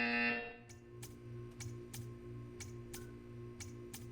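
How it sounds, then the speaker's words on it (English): In the video game Portal 2, a short loud buzzer tone sounds at the start, then fades into a regular series of faint ticking clicks over a low hum. "You will hear a buzzer."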